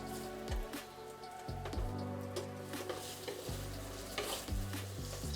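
Chicken pieces frying in a pan for Cajun bourbon chicken, a steady close sizzle with repeated knocks and scrapes as pieces are turned.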